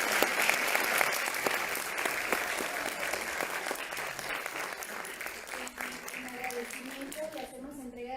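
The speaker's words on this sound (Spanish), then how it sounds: "Le damos un fuerte aplauso a la doctora." Audience applause for a doctor after her talk on femicide, a thick crowd of clapping that thins out toward the end as a voice begins speaking over it.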